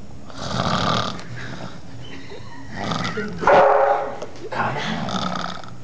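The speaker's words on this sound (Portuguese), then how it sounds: "Deixa ele dar um ronco bem grande. Bem alto." A dog snoring loudly while asleep, with rough rasping breaths in repeated bursts and one stronger, louder snore near the end, close to the listener.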